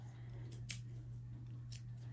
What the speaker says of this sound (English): I splurged on these scissors for myself. They are so huge. I think they're like 11-inch blades or something.